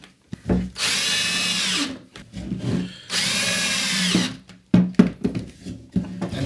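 Power drill boring a pilot hole through a wooden shelf during a beginner woodworking build, two loud sustained whirring bursts with short pauses and a few clunks in between.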